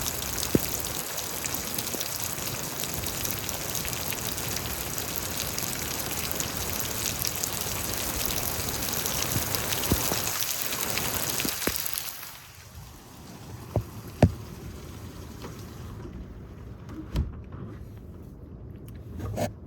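Heavy rain pouring steadily during a storm in Houston, Texas, a dense continuous wash that thins out toward the end with scattered drips and knocks.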